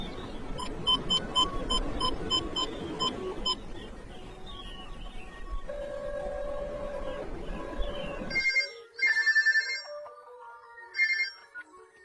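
A telephone rings with a repeating electronic ringtone, loud and close; the ringing plays over background noise and then continues alone in short repeated bursts.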